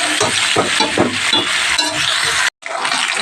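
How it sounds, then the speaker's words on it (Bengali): Loud, close sizzling as drumstick pods and potatoes fry in a pan, with rhythmic stirring scrapes and a brief cut near the end. "সজনে ডাটা দিয়ে ভালো করে একটু ভেজে নেবো"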